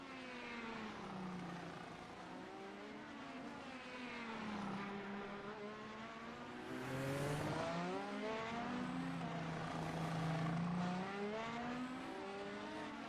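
IndyCar race car engines in a video game at Long Beach whine and shift pitch continuously, rising and falling as they pass, with a steady loud drone and no talking throughout.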